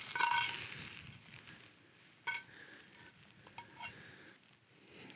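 Steak frying on a gas camping stove at a wild campsite, a steady soft sizzle with faint clinks, close and fairly quiet, no talk.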